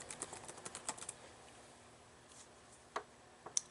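A password is keyed into a computer keyboard as a faint patter of light clicks, quick at first, then sparser, with a couple of sharper taps near the end.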